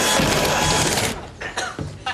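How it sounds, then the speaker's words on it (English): A power drill bores holes into a wooden trunk, a loud continuous whine for about a second that then breaks into shorter bursts as the bit starts and stops. "okay, let's start drilling."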